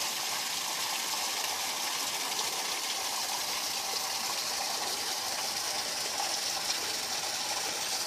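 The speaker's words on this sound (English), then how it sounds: "This is the only running water in Gympie at the moment because of the long drought." Running river water pours steadily over a concrete weir on the Mary River at Gympie during a long drought, a continuous broadband rush that holds even and fairly close throughout with no voices.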